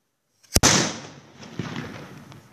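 A homemade firecracker goes off close by with a sharp, loud crack, and a hissing crackle trails off afterward with a few softer pops.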